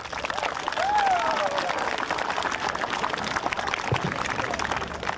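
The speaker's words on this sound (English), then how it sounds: "So give yourselves a round of applause for this past week." Middle school students at a fire department live burn demonstration give themselves a round of applause, a steady wash of clapping from a group with a brief whistle near the start, moderately loud and continuous.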